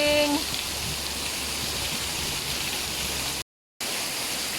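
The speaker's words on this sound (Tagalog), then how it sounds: "Raining." Steady rain falling outdoors, a dense even hiss that fills the whole clip at close range with no voices, cut by a brief dropout near the end.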